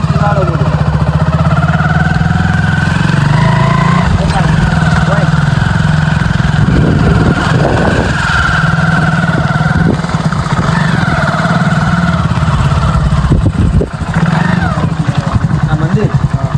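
A motorcycle engine runs steadily close by, a constant low rumble with small rises, under ongoing conversation between riders in a Gujarati village.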